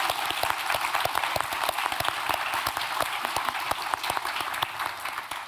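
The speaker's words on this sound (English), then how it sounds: "firstly, round of applause" Steady round of applause from a conference audience, dense clapping at an even level throughout with no talk.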